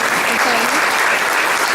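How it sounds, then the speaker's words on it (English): An audience at a newspaper's 50th anniversary celebration applauds steadily for B. Doyle Mitchell, a dense, even wash of clapping held at full strength throughout, with a faint voice beneath. "let's give a round of applause for B."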